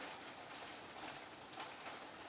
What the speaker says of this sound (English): Wow, that's a hailstorm. And the noise I find terrific.